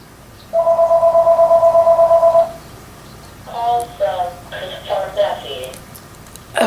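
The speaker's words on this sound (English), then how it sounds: "Oh, there goes the phone." A telephone rings indoors with a steady trilling burst lasting about two seconds, followed by a person talking close by.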